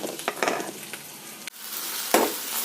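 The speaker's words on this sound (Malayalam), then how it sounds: "പൊടി നമ്മൾ ഡ്രൈ റോസ്റ്റ് ചെയ്തുകൊണ്ടിരിക്കുകയാണ്" Spice powders, including fenugreek powder, dry roast in a pan for an okra masala, giving a close, soft scraping sizzle in short stirred bursts that pause before picking up again.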